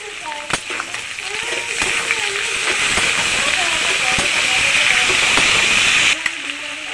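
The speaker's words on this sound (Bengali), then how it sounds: "ভাজতে ভাজতে এবারে যে পেস্ট করে রেখেছিলাম টমেটো, কাঁচা লঙ্কা আর আদা দিয়ে দেবো" Carrots fry in an oil-filled pan as a paste of tomato, green chili and ginger goes in, giving a steady close sizzle and hiss throughout, with a voice talking over it and a brief clatter near the end.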